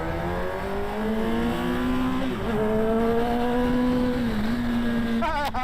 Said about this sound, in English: That's a McLaren.